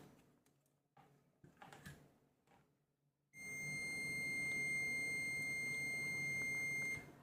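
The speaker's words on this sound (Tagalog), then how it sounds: "At kung napakinggan nyo, mayroon din siya ng buzzer sound." A digital multimeter tests a fuse for continuity. A few soft handling clicks come first, then the continuity buzzer starts abruptly and holds a steady, shrill electronic tone for several seconds, close and clear.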